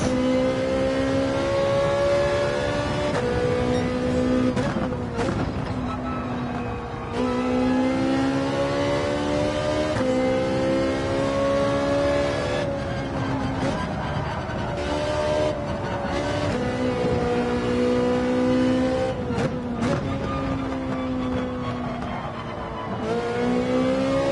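A racing car engine in Gran Turismo 7 whines continuously, its pitch climbing and dropping sharply with gear changes, loud and close throughout.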